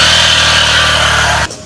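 A motorcycle engine drones loud and close in a steady, buzzing note that cuts off sharply just before the end.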